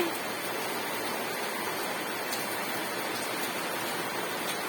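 Steady rain hisses evenly throughout, a dense wash of falling water with no voices.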